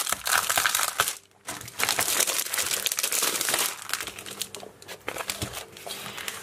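Thin, delicate laser-cut Stampin' Up! paper sheet handled between two pieces of cardboard, giving steady close crinkling and rustling with a brief pause.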